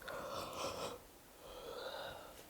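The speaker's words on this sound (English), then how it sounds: "Forgive the yawn." A tired person yawns in two long, breathy drawn-out exhalations, close and fairly quiet, with a brief pause between them and no talking.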